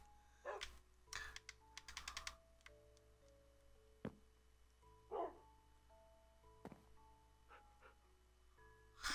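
Dog barks in Minecraft horror gameplay: several sharp, scattered bark-like bursts and clicks over a quiet game ambience with steady tones, no talk.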